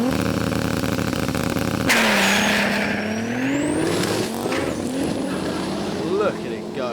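A car does a burnout at a performance car event, its engine revving loudly as the spinning tires howl, the pitch sweeping up and down after a sudden jump in loudness.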